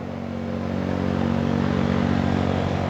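Motorcycle ridden along a winding road between Subang and Bandung, its engine droning steadily with a low rumble that swells slightly as it speeds up, with no talking.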